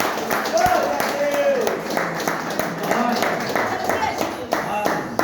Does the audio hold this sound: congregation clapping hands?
yes